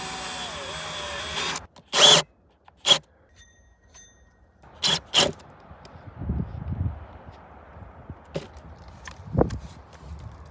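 Several short bursts of a power drill whirring, each lasting a second or less, separated by pauses with faint handling noises and clunks.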